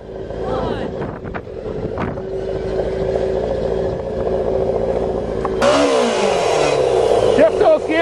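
A motorcycle-powered dune buggy's engine runs under strong wind buffeting, then revs up sharply to a louder, rising drone near the end, heard close to the microphone.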